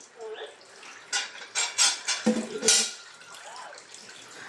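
Dishes clattering and clinking at a home sink with running water, a series of short knocks and splashes while someone speaks in Filipino nearby.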